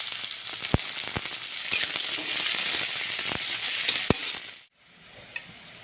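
Chopped onion fries in hot oil with a loud, steady hiss broken by sharp stirring clicks. It cuts off abruptly near the end, leaving near silence.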